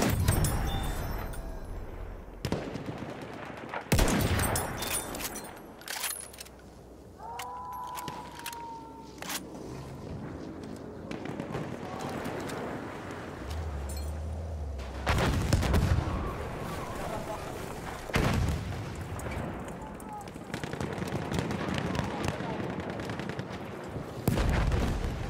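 Battlefield 1 battle with bursts of machine gun fire and sharp gunshots, loud close cracks scattered across the scene, mixed with vehicle noise, shouting and other in-game voices.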